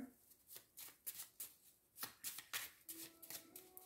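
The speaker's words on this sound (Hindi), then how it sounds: "बहुत सारे कार्ड्स गिर रहे हैं" Tarot cards are shuffled by hand, with a steady run of crisp riffling slaps as several cards slip and fall, close and quiet, and no voice over it.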